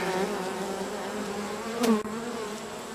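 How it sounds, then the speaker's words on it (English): Soft, steady buzzing of honeybees on a hive frame close by, a low continuous drone with a brief louder swell near the end. "Some bees on there."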